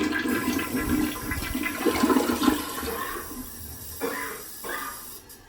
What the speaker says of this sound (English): we're going to flush that toilet a couple of times and make sure we drain out the water that's in the bowl